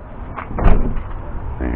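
A bad-sounding rear door on a used ambulance van with a 59 plate, closed once with a single loud thud at a van auction, with people talking around it.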